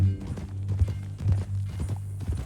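Horse hooves clip-clop at a walking pace in Red Dead Redemption 2, an irregular run of hoof strikes close by under a low steady hum from the game's surroundings.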